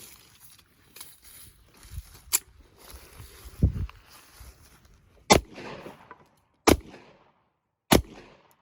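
A pistol firing .45 Super rounds at an outdoor range gives several sharp, loud cracks spaced a second or more apart, with quieter handling noises and faint rustle in between.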